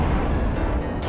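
A bazooka explosion in the video game Traffic Chicken: one loud, deep, rumbling blast that fills the short moment, with a brighter burst near the end.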